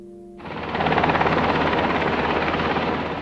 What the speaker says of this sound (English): we filmed this helicopter, hired by PG&E, hauling away parts of the trees suspected of hitting their power line